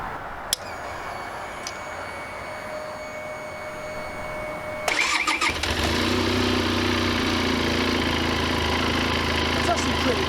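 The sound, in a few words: Benelli Special motorcycle engine starting with key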